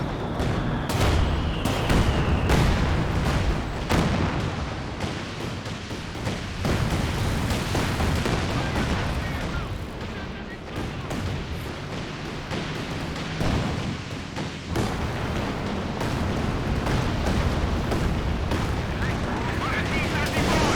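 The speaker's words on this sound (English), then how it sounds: "He's got the arty coming down as well" Heavy artillery barrage in the Company of Heroes 2 strategy game, a 3v3 battle at a station, with repeated booming explosions and gunfire crackling continuously throughout, loud and dense, a commentator talking over it.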